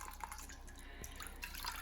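Homebrewed makgeolli rice wine trickles steadily through a filter. The quiet, continuous drip and splash of liquid plays alone for a couple of seconds, with no talking.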